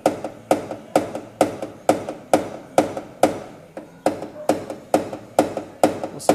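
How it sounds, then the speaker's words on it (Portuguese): A hammer taps out a dent in a car body panel during paintless dent repair, striking about a dozen times in a steady, even rhythm, each blow sharp and close, with no talking. "você também pode utilizar o martelo"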